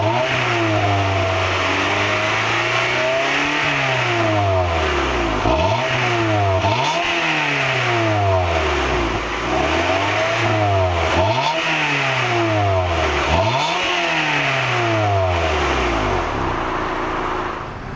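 A 1999 Honda Prelude with a five-speed gearbox revs its engine up and down repeatedly and close by. The loud, rising and falling engine note is heard alone, with no talking.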